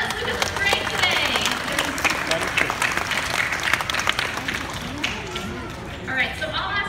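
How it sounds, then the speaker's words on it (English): Small group applause for a participant named Lucas, busy uneven clapping mixed with voices and some close tapping and shuffling noises that taper slightly toward the end. "Let's give a round of applause"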